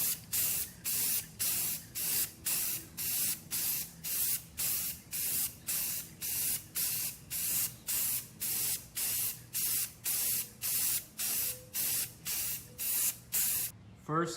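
A spray can coats a GV front splitter for an NA Mazda Miata in a long series of short, evenly repeated hissing bursts, loud and close, about two per second, with faint talk beneath.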